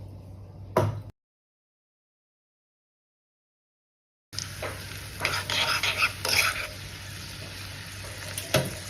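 Cashews, raisins and other dry fruits fry in a spoonful of ghee for bottle gourd halwa, a soft close sizzle with light stirring, interrupted by a long stretch of silence before it resumes.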